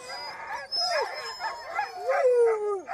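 Several dogs howling together at a dog farm holding 110 dogs, long rising and falling wails overlapping with yips and whimpers, fairly close and continuous.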